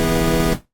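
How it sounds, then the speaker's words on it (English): A single synth lead note in keyboard trigger mode restarts cleanly at the key press. It sounds bright and buzzy, sustains evenly for about half a second, then cuts off quickly to silence. "change that to the keyboard trigger mode. So every single time we press a key, it re-triggers the note, and it sounds like this"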